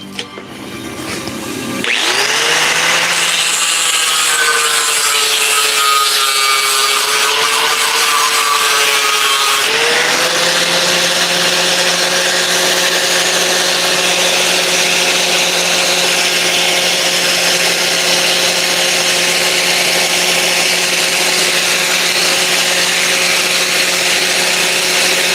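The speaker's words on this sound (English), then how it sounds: "I'm trying to use a grinder real quick on this." A power grinder starts up after a moment of quiet, then runs loud and continuous with a steady whine, shifting pitch once as it bites into the workpiece.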